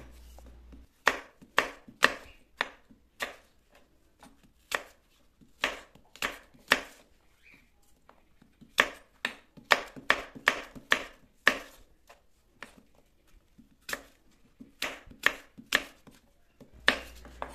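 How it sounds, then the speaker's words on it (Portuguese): A knife chops a green apple into small pieces on a cutting board, quick bursts of crisp taps separated by short pauses, close and clear with no talking. "Vamos pegar uma maçã verde e cortaremos em pequenos pedaços também."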